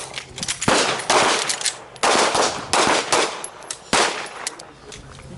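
Handgun shots at a combatives training class during a reload drill: several sharp, loud reports in uneven bursts with short gaps between them, ringing outdoors at close range.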